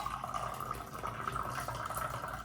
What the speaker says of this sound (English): once the tea is done in my gaiwan, I'm going to pour it